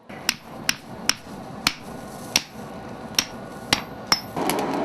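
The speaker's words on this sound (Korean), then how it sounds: "불에 달군 쇠를 다시 소리가 나도록 잇따라 세게 치고 접어붙이는 과정이 계속해서 반복되는데" Korean swordsmith hammering heated steel to fold it while forging a sword: about ten sharp, ringing metallic strikes at a steady half-second rhythm, close and loud over a low background rumble.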